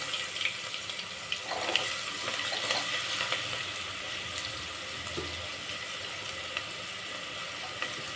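Chopped onions sauté in a pan with a continuous close sizzle and a few soft scrapes of stirring, fairly quiet and without voices.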